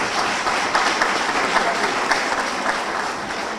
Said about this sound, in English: Give this administration a round of applause,